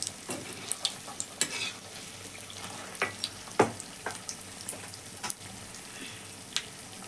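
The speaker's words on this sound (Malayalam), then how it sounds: "സ്പെഷ്യലായിട്ട് ഇതാ വൈതളങ്ങ പൊരിച്ചെടുക്കുകയാണ്" Vaithalanga fritters deep-frying in a small pan of oil, a steady crackling sizzle with scattered sharp pops and stirring clicks throughout, close and moderately loud with no talk.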